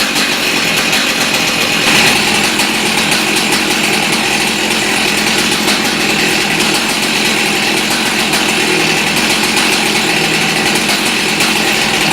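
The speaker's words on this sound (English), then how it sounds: "just letting the fuel burn out of the carburetor and the fuel line." A small chainsaw engine idles steadily to burn the remaining fuel from the carburetor and fuel line. Its high-pitched buzz stays loud and close and unbroken for the whole stretch, with no voices.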